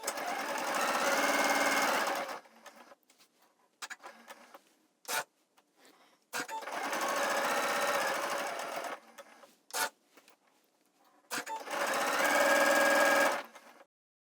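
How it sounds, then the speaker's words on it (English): A sewing machine stitches angled, ribbon-like fabric corners in three loud, steady rapid bursts, with short pauses, clicks and fabric handling between runs. "When you're sewing on such tight corners and not a 90-degree corner, sometimes it's hard to know when to turn your presser foot."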